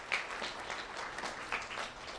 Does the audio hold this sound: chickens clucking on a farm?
no